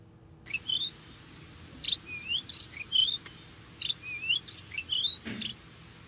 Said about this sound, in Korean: 이 새가 종달새입니다.